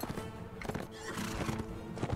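A horse neighs and its hooves clop in Mount & Blade: Warband, the whinny and steady hoofbeats filling a short stretch over layered game sound.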